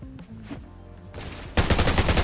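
Gunfire in the Undawn survival shooter game: a dense, loud burst of rapid automatic shots that bursts in after a quieter stretch of game ambience and continues steadily to the end.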